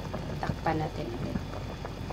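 Ginataang manok, chicken in coconut milk with turmeric, bubbling in a covered pot, a soft steady simmering hiss with faint bubbling pops and a voice speaking over it.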